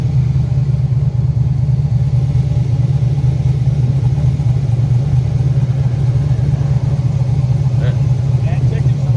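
A turbocharged LS-swapped Mustang with a major boost leak idles steadily in the foreground, its deep, loud rumble continuous and unbroken while people talk nearby.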